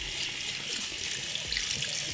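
Water from a tap runs steadily as a makeup brush is rinsed of tan bronzer under the stream at a sink, a close, continuous splashing hiss with no talking.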